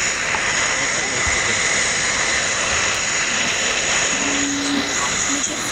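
A steady, continuous aircraft engine drone from a flight simulator game, with a small light plane near a short runway, holding an even, fairly loud hum throughout with no clear breaks.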